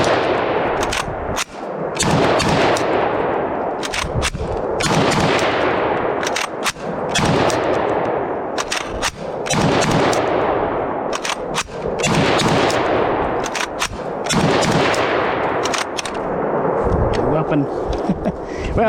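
An IWI Tavor SAR bullpup rifle fires Silver Bear steel-case ammunition outdoors in a long run of loud, sharp gunshots. The shots come in quick strings and single rounds, with brief pauses and echo between groups.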